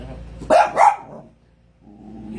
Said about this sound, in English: You dumb dog, shut up.